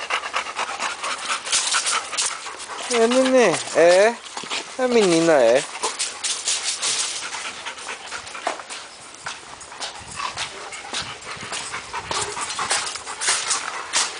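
A female dog pants in quick rhythmic breaths close by on a farm, with some whimpering tones, while people talk and chatter throughout.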